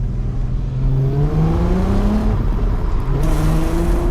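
Audi TT MK1 with a 3.2 V6 engine accelerating hard, a loud close engine note climbing steadily in pitch and shifting once as it pulls through the revs, with no talk over it.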